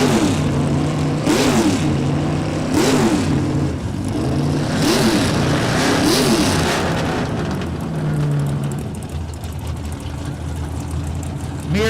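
A no-prep drag racing truck, the Mears Racing special, revs hard in the right lane at the starting line at Newport Raceway. Several loud, close rising-and-falling bursts climb and drop in turn over a steady roar.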